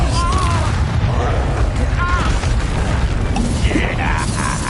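Expulso explosion spells cast in the wizarding game Hogwarts Legacy, a steady stream of bursting blasts, pops and magical whooshes in a loud, busy duel, with a spoken voice among the effects.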